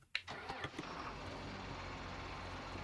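An older tractor engine cranks and catches in Farming Simulator 19, heard from inside the cab with a sharp initial start, a few sputters, then a steady low idle hum.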